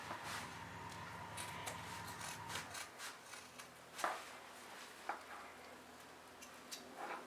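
Fabric for a tote bag, outer fabric and lining stacked together, snipped with scissors: soft, irregular close cutting crunches and rustles, quiet, with a few sharper clips in the second half.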